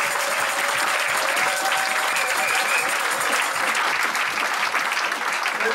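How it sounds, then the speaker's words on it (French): A wedding congregation breaks into loud, continuous applause, a dense wash of clapping that fills the whole stretch at steady volume. "Donnons une acclamation."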